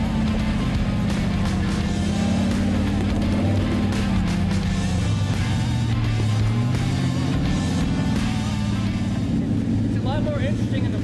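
A Toyota 4Runner engine labors off-road on a muddy trail while lifting a tire, a steady loud drone with shifting revving pitch throughout, with people talking over it.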